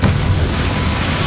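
A Confringo fire spell blast goes off in the Hogwarts Legacy battle against Ranrock, a loud, dense booming burst with heavy low rumble that holds steady for over a second.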